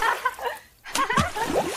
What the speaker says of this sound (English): And they are splashing water all around.